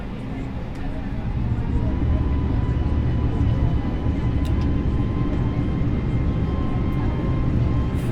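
Airbus A320neo jet engines spool up for takeoff in Microsoft Flight Simulator 2020, a steady loud broadband roar with low rumble that holds throughout, with speech present in the background.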